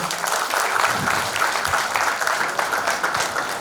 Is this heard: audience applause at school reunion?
yes